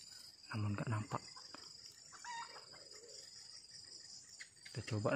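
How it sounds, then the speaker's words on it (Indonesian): A wild jungle fowl clucks and calls in short bursts at the start and end, at night, over a constant high chorus of crickets. "Ayam di sana, ayamnya."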